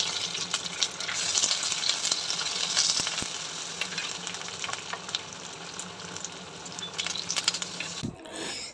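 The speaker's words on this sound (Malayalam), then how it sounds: "അപ്പം ഞാൻ ഇഞ്ചിയും വെളുത്തുള്ളിയും എല്ലാം ഇട്ടൊന്ന് വഴറ്റി എടുക്കട്ടെ" Ginger and garlic sautéing in a pan for chicken chukka, a loud continuous sizzle with stirring scrapes and clicks throughout, breaking off sharply at the end.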